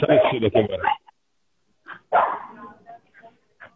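Dogs bark in short bursts, close and sharp, with quiet gaps between the volleys and a voice heard briefly at the start.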